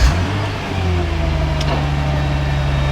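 A stock R35 Nissan GT-R fires up and settles into a loud, close, steady idle, its low engine drone humming evenly throughout.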